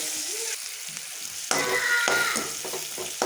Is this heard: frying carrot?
yes